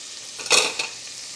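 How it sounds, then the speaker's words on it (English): Red onion sautéing in a pan, a low steady sizzle with one brief louder scrape of stirring in the middle and a smaller one just after. "we're going to let that all saute together until it's softened up"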